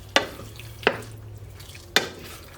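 A spoon stirring pepper and Worcestershire sauce into a simmering beef and tomato stew, three distinct scraping knocks against the pot over a low steady hiss.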